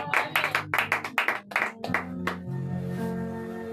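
A church congregation claps in quick, steady rhythm during a Wednesday teaching service, then the clapping gives way to sustained voices praising Jesus Christ.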